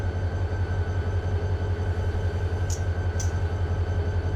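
A train running a local freight in the video game Run 8 Train Simulator, with a steady, throbbing low diesel engine rumble held throughout and two brief high metallic squeaks near the end.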